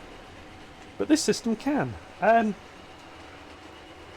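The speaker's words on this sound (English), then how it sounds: "4 trains running at once." Four model trains run at once on a layout, producing a low, steady rumble throughout while someone speaks briefly over it.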